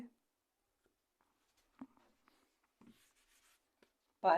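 Brief scratchy marker or chalk strokes on a board as a percentage math problem is worked out, faint and intermittent in a quiet room, ending with a louder burst of a nearby voice.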